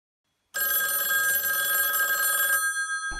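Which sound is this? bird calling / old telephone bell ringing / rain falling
old telephone bell ringing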